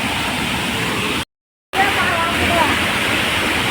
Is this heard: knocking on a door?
no